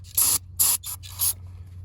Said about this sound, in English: get some brake clean, spray it on the rag